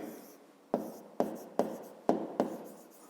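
Pen writing on paper while a math solution is noted down: five distinct taps or strokes, each followed by a brief scratching trail, close and clear, with a faint voice murmur at the start.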